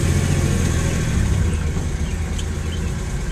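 A Datsun 240Z's engine, running imperfectly after eight years, hums in a steady low drone throughout with no break.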